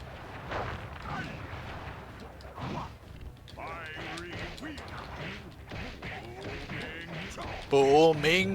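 A boss's 'Booming chop' attack in the Sly Cooper video game booms among busy game effects while a voice talks over it, with a loud burst near the end.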